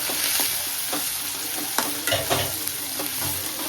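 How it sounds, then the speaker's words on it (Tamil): Onion, green chilli and spices sizzling in hot oil while being tempered for rava upma, with a steady frying hiss and occasional spoon scrapes and clinks against the pan, close and even. "நல்லா தாளிக்கணும் காய்ஸ்"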